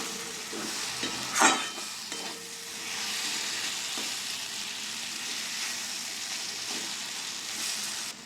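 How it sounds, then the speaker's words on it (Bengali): Salt is mixed into eggs with a utensil, first as one sharp clink, then as a soft continuous swishing and scraping, faint and close, with no talking. "নুনটা ডিমের সঙ্গে মিশিয়ে নিই।"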